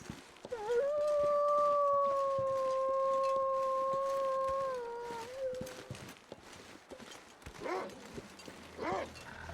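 A wolf howls in The Long Dark, Interloper difficulty: a long, sustained, loud howl holding a steady pitch for several seconds, then tailing off, followed by faint footsteps in snow.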